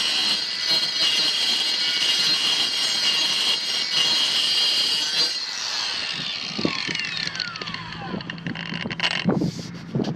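A Kobalt 24-volt Max 4-inch brushless cordless circular saw, model KMC124B-03, cuts wood with a loud, high, steady whine for several seconds, then winds down into softer rattles and knocks.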